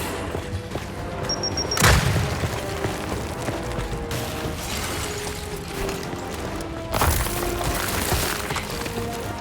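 Frag grenade blasts in Gears of War 5 gameplay, two loud booming explosions about six seconds apart over a dense, continuous bed of battle noise and mechanical clatter.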